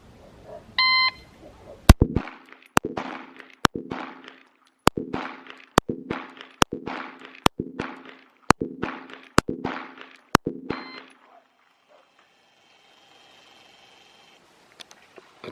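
Ten sharp, evenly spaced shots from a Glock 19 Gen 5 pistol on an outdoor shooting range, each a loud crack about a second apart, opened by an electronic start beep and ending in near silence.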